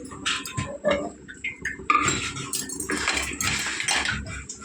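Metal utensil scraping and clinking against a pan in irregular bursts while stirring a mushroom egg masala curry, close up, with no talking.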